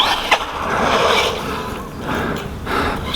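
A VKAR Bison V2 1:10 RC monster truck runs on asphalt, its motor whining in a steady, fairly close rush that swells and dips, with no voices.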